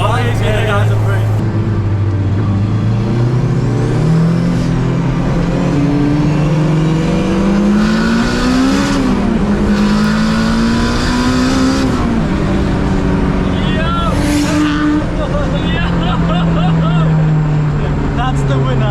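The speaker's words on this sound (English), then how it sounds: "that is a 1000 brake horsepower R32 Skyline, and we're gonna go up against" A 1000 hp Nissan R32 Skyline with an RB engine races a Honda Civic, its loud, close engine revving and climbing steadily in pitch through the gears, with brief drops between shifts. Voices talk underneath.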